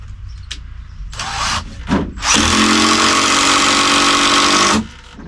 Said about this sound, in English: 2656-20 M18 impact driver, and the trigger is messed up